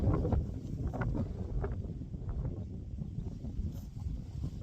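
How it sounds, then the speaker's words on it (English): Gusty wind on a hilltop in the Ochil Hills buffets the microphone with a constant low rumble and rushing noise, moderately loud and unbroken. "It's getting windy."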